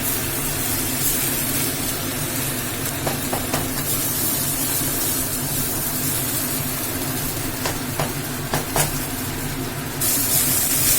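Chow mein stirred in a hot pan, a loud continuous hissing sizzle with occasional clicks and scrapes of the utensil, steady and close throughout.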